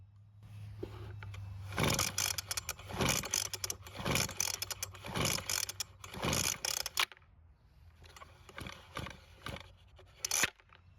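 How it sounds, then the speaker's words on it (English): A weed eater blower's repaired recoil starter with a new pull rope is yanked repeatedly, about five quick sharp rasping pulls in a row, a pause, then several more pulls, close and fairly loud with no talking. "the recoil is now working better than ever, and it looks much better too with that new rope"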